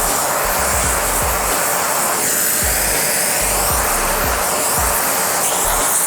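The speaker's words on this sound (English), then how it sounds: "I'm moving the heat farther down, and that's why I'm using this welding tip." An oxy-fuel welding torch tip blows a steady hissing flame against a metal plate. Low irregular thumps and handling knocks sound up close under the constant roar.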